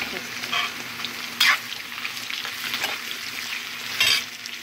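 Asafoetida dropped into hot oil in a pan while making coriander and tomato chutney, giving a continuous close sizzle with brief louder crackling bursts.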